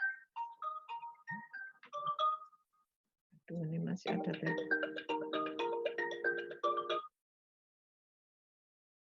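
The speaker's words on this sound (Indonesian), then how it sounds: "ada telepon ini, lagi ngajar ada telepon" A telephone rings during an online teaching session at home, its ringtone a melody of short, bright electronic notes in two bursts separated by a brief pause, with a voice speaking briefly.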